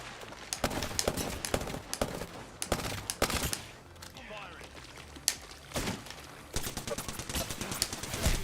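Rapid bursts of automatic gunfire and sharp single shots from an Apex Legends match, close and loud, firing in clusters with brief gaps while players talk over the action.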